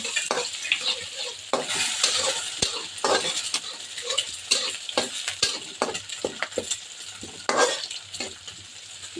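Onions frying in a pan for a bottle gourd and climbing perch curry, with a steady crackling sizzle and repeated metal spatula scrapes and clinks as they are stirred, close and without talk.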